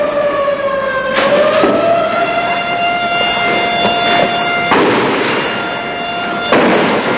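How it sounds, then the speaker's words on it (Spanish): Siren of the Prensa Gráfica building wailing during a shootout, a loud sustained tone that rises slightly and holds, with bursts of broadband noise cutting in and out underneath. "La sirena de la prensa gráfica hace rato que está sonando"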